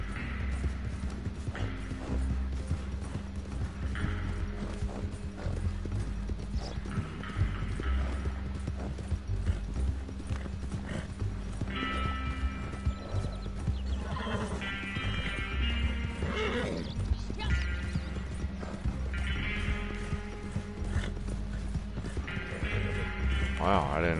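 Horse hooves clip-clop steadily through a Red Dead Online ride, with a whinny or neigh breaking in now and then; someone talks over the hoofbeats almost throughout.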